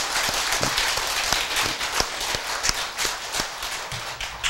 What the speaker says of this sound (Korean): 청장님께 우리 박수 한번 보내주세요.